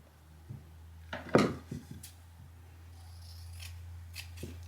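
Scissors snip excess fabric off a pillow, a few separate sharp cuts in a quiet room, the loudest near the start and fainter snips following.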